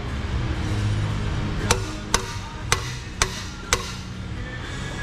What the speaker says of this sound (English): there's the pry bar right there on the silicone